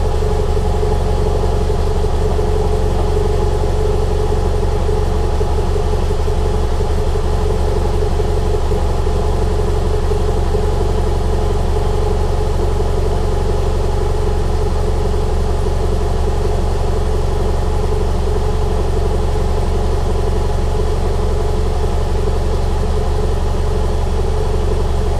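A motorcycle engine idles steadily after an oil and filter change, running to circulate fresh oil; a constant low, even rumble with a mid-range hum holds near and unchanged throughout, with no voices.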